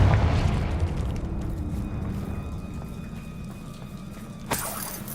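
In Hogwarts Legacy, a Confringo spell explosion opens with a loud boom that fades into a low rumbling tail, followed later by a short sharp burst.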